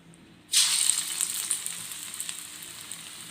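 Onion, ajwain and drumstick-leaf pakoda frying in hot oil, stirred with a perforated ladle: a loud sizzle bursts in after a short quiet start and keeps crackling steadily, close up and alone.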